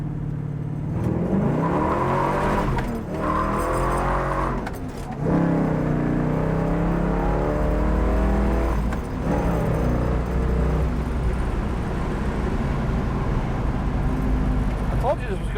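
A 1972 Oldsmobile 442 muscle car engine roars as the car accelerates hard on a test drive, the pitch climbing through gear changes, with a steady low rumble underneath.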